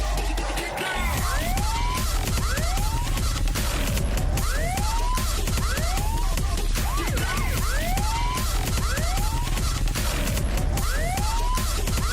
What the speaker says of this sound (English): Here comes the sound of the sirens.